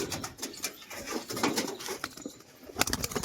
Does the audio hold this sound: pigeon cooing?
yes